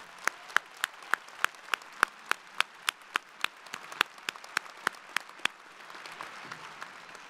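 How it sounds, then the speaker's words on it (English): Commencement audience honoring doctoral candidates with sparse, evenly spaced hand claps, crisp and distinct at a steady quick rhythm, growing thinner and more scattered toward the end. "let's have another round of applause for all of our doctoral candidates"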